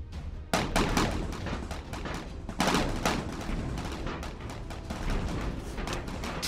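Gunfire in a Warhammer 40,000 battle scene, rapid overlapping shots and heavy booming blasts in continuous bursts, loud and close, with strong impacts near the start and middle.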